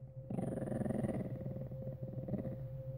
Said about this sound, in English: No, only growl.